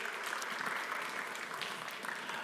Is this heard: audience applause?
yes